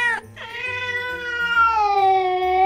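A pet cat meows in long, drawn-out, whining calls, close and loud, one short cry followed by a sustained wavering meow with no talking.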